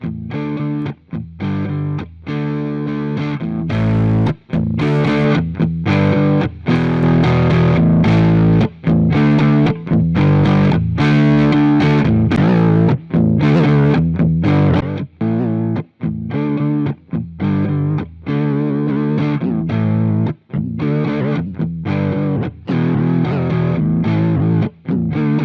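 A full music mix runs through the Amplitube 5 saturator on the master bus, giving a loud, continuous, gritty, distorted tone with steady rhythmic hits and brief gaps, and no talking.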